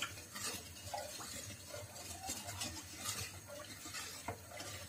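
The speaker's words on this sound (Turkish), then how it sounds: "O yüzden iyice karıştırıyorum." Sugar syrup is stirred around inside a pot on high heat with a steady, scraping swish that continues without a break, close and fairly quiet.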